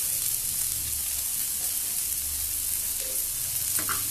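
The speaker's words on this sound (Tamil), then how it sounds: "நல்லா வதக்கிக்கணும். இப்போ அதில் இட்லி பொடி கொஞ்சம் தூவிக்கணும்." Onions sautéing with a sprinkle of idli podi in a pan for roadside onion dosa, a dense continuous sizzle, close and steady, with a faint scrape near the end.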